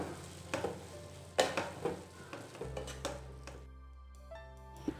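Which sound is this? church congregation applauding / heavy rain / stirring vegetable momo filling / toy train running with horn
stirring vegetable momo filling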